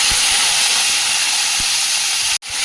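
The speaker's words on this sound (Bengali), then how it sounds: "ভেন্ডিগুলো একটু ভেজে নিচ্ছি তেলের মধ্যে" Okra frying in hot oil with cumin gives a steady, loud, close sizzle and hiss that runs throughout, with a brief drop near the end.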